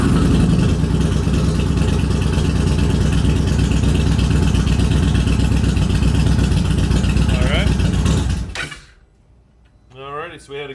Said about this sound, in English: she did struggle quite a bit to start, which is very typical of the Indian Challengers